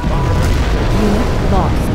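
Nuclear missile detonation in Command & Conquer Generals Zero Hour: a loud, sustained low rumbling roar with dense broadband crackle that fills the whole two seconds.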